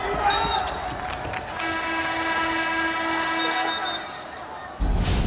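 At a Louisville versus Virginia Tech college basketball game, a referee's whistle shrills and then a long steady buzzer horn sounds over arena noise and ball bounces, ending in a loud burst, with commentators talking.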